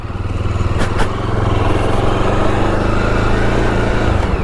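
A Jawa Bobber 42 motorcycle engine idles close by with a steady, loud, rhythmic thump, holding a constant pace with slight throttle blips throughout.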